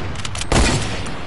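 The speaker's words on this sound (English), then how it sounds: "I'm shooting at an airdrop." Video game gunfire hits an airdrop, with a few quick shots followed by a heavier booming blast partway through. The sound is close and loud over a noisy game background.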